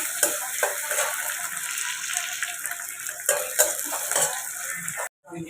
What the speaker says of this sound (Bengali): আস্তে আস্তে পেঁয়াজ কুচিটা আমি ছেড়ে দিলাম তেলে